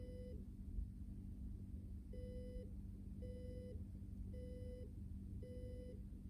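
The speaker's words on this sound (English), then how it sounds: "Now the buzzer is working." An electronic buzzer on a pressure safety alarm sounds in short, evenly spaced beeps, five pulses repeating with a steady rhythm over a low background hum.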